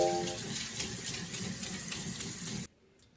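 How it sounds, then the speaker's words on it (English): Water running steadily over soaked rice as it is rinsed and drained, a close, even gush and patter that cuts off abruptly near the end, with no voices. "Now I can drain the soaked rice and rinse off any residue."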